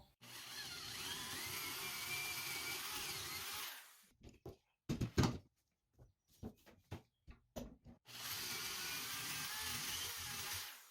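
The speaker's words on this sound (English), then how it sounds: "I'm going to use this 5/8 inch hole bit to cut out his eye" A 5/8 inch hole bit bores through wood for a scroll-saw fish project, a loud steady whirring drill run for about four seconds, then scattered knocks and handling noises, then the drill starting again and running steadily to the end.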